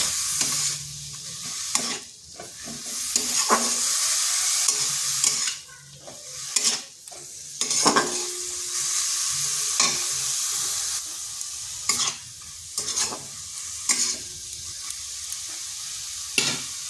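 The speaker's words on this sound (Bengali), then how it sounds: "আঁচটা মিডিয়াম টু স্লো আছে রেখে এটাকে একটু ভাজা ভাজা করে নিচ্ছি" Salted cauliflower stems fry in a pan over medium-low heat, a steady sizzle broken by repeated scraping stirs and clinks of the utensil, with no talking.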